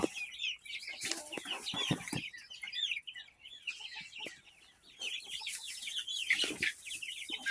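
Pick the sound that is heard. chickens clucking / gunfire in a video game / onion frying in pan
chickens clucking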